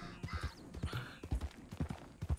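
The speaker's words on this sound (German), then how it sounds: "dann musst du mit deinem Pferd spazieren gehen" Horse hooves clip-clop at a walking pace in Red Dead Redemption II, a steady rhythmic series of close, quiet hoof falls with faint game ambience.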